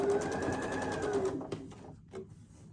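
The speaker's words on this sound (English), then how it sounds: "We're going to sew down. I'm going to go ahead and do that while we're videotaping." A sewing machine stitching quilt pieces for a Civil War-style quilt, running in a fast steady whir close by, then slowing and stopping with a few faint clicks afterward.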